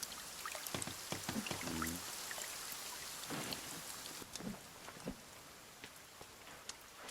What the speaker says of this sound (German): Ja, weil es regnet.